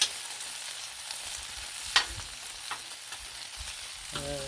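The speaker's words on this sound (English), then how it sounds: "You may notice I'm rotating my bacon a little. because the pieces closest to the edge don't cook as fast." Bacon fries on a Blackstone flat-top griddle with a steady close sizzle and crackle, a few small spatula scrapes and taps coming through as the strips are turned.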